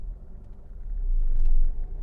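Audi A2 1.4 16v with a faulty clutch lurching forward and back as it engages, a low engine rumble that swells and then eases over about two seconds, no talk.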